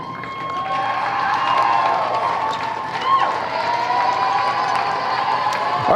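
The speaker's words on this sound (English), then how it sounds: "Let's give him a big round of applause." Crowd at a junior high regional basketball championship cheering and shouting in a gym, a sustained roar with whistles and voices and only light clapping mixed in.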